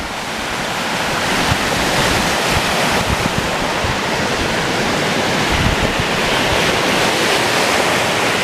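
Ocean waves splashing onto the beach at Whitefish Dunes State Park, Sturgeon Bay, Wisconsin: loud, continuous roaring surf close by, with steady rushing wash and wind buffeting the microphone throughout.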